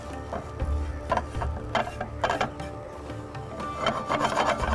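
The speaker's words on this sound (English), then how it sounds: "add some desiccated coconut to the pan, to the hot pan. Mix it and roast it properly." Desiccated coconut stirred and roasted in a hot pan, dry scraping and rubbing strokes of a spoon against the metal in an uneven rhythm, close and fairly quiet, no voices.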